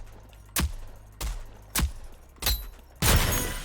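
Pistol poke shots in the Rogue Company video game: five separate sharp gunshots spaced about half a second apart, close and punchy, the last one fuller with a longer tail.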